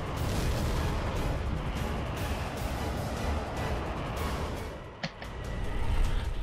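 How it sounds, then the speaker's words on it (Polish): Missile launches and gunfire in Tom Clancy's H.A.W.X, a jet combat game, roar as a dense rumbling blast bed with a sharp, brief pop near the end, then the engine roar swells again. "Dobre odpalenie, dobry strzał"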